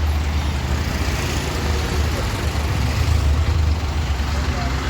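A full-AC Joshi Travels bus pulls up, a steady close engine and road rumble filling the scene with continuous low noise.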